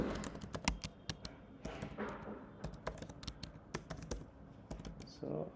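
Kotlin code typed on a computer keyboard, with rapid close clicking keystrokes in irregular bursts and an occasional louder key, continuing steadily under a soft background.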